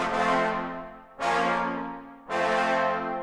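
Sustained trombone notes, equalized to trim the bass, slightly reduce the mids and cut the highest frequencies, sound in three held tones with clear attacks, each swelling and fading gently, played alone.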